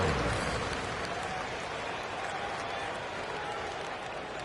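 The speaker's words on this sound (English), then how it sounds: "One more round of applause for your performers." Crowd applause fills a basketball video game arena as a dense, steady wash of clapping that holds evenly throughout and fades only slightly.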